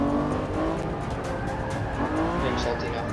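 Volvo race car in Forza 6 holding a steady engine drone with faint tire noise, continuous and close throughout, with a voice speaking over it.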